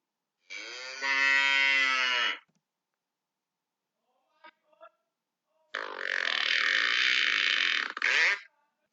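Cows moo outdoors in two long, loud, drawn-out calls separated by a quiet gap, with a couple of faint brief knocks in between.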